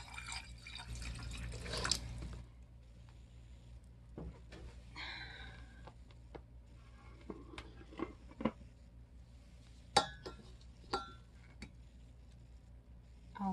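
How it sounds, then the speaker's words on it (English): Water dumped from a pitcher onto the floor, a brief splashing pour at the start followed by scattered faint drips and small taps spread irregularly through a quiet room. "that's me dumping water right on the floor"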